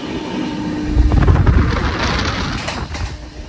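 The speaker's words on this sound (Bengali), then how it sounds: "ট্রেন একদম টান ছুটছে, কিছুক্ষণের মধ্যেই ঢুকবে" Sealdah Ajmer Express running at speed on the way into Jaipur station, a steady loud rumble of wheels and carriage noise with a heavier surge of low-end roar partway through, no talking.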